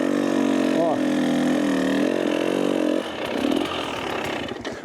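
A trail motorcycle engine runs loud and close during a pivot turn, a steady buzzing drone that rises and wavers with throttle blips, then drops into a rougher, choppier idle near the end.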